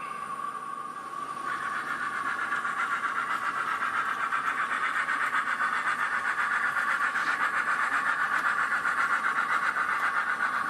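A small model train runs steadily along a layout and over a bad piece of track, giving a continuous near whir with a high metallic squeal and rattle.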